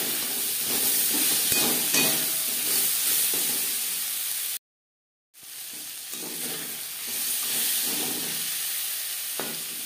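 Peas and tomatoes sizzle steadily in a hot pan for a Bengali masoor dal, with occasional stirring scrapes; the frying cuts out briefly midway, then resumes just as loud and close.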